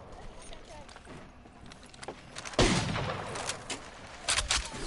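Gunfire in the Apex Legends video game, a sharp loud burst of shots midway with scattered further reports, under a player's voice talking.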